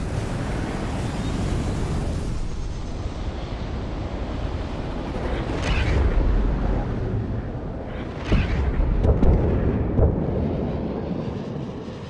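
Missiles launched and detonating in the space game Star Citizen: a dense, continuous roaring rumble with several heavier blasts swelling out of it, loud and close throughout.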